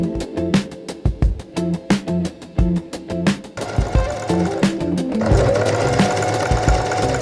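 A sewing machine stitches pyjama sleeves on, first in short stop-start bursts of needle clatter, then in a longer continuous run, close and alone with no talking.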